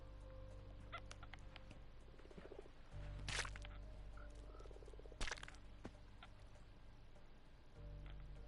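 Frogs croak in Minecraft, a series of quiet, low, rhythmic ribbits over a soft ambient hum, with a couple of sharper clicks and splashes mixed in.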